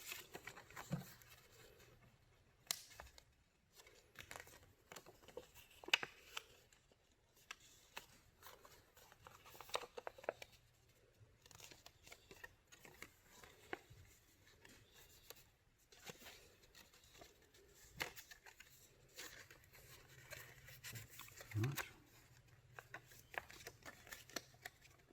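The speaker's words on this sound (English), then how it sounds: "we'll fold it along all these lines, except for these ones in the middle here." Paper is folded along scored lines, with soft, close crinkles, creases and rustles coming in scattered bursts at low volume.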